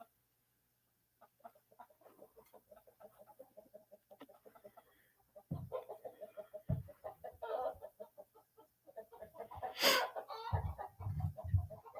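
Chickens cluck and fuss as they wander about outdoors in the dark instead of going to roost, a soft scattered chatter that grows louder and busier in the second half, with a few sharper calls near the end.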